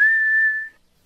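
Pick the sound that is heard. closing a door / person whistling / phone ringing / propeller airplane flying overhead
person whistling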